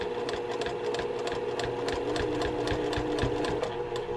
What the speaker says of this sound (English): I'm aiming my needle right so it ends right in the, it right smack dab in the center